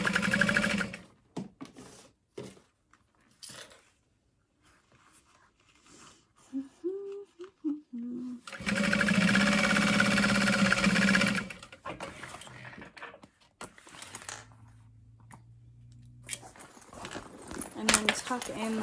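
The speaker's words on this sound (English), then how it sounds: "I'm going to sew in one of my woven labels" A sewing machine stitches a woven label onto a fabric tote bag, running in a steady close burst of rapid mechanical chatter, with quieter handling noises and a speaking voice in the gaps before and after.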